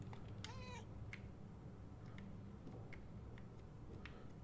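A kitten meows in the video game Murdered: Soul Suspect, one clear rising-and-falling meow early on over a faint steady background, followed by light ticking sounds.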